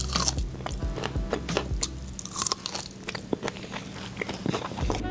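Crisp deep-fried corn riblets tossed in spicy Szechuan wok salt are bitten and chewed at a restaurant, giving loud, close crunches in an irregular rhythm that continue throughout, with no talking.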